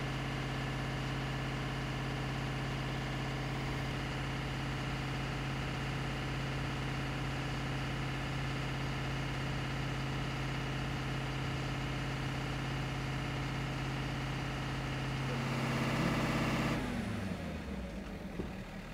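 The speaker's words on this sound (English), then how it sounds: "the test will now raise the RPM to ensure engine has operating temperature" A 2012 Ford F-Series truck runs steadily during a diesel particulate filter regeneration, a loud continuous engine drone with a constant low hum that shifts and drops near the end.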